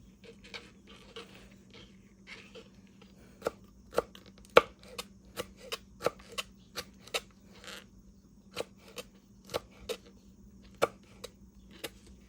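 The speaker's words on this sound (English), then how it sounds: "I'm just going to cut them like I did the jalapenos, just in little" Sharp knife cuts chop peppers into small dice on a cutting board for peach salsa, a series of crisp, irregular taps over a quiet background.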